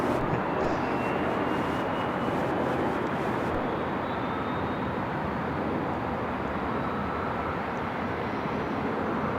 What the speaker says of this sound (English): next departure is going to be Alaska Airlines